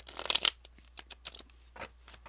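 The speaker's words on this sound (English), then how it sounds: "Spirit does not want me to shuffle these cards." Tarot cards are shuffled by hand in a quiet room. Soft, papery riffling bursts come first, then sparser flicks and taps, close to the microphone, with no speech.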